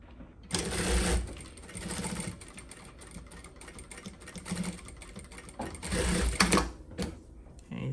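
Close, loud sewing machine running in bursts as it stitches fabric near the edge for a Dollar Tree storage bin, with pauses between runs and a voice speaking over parts of it.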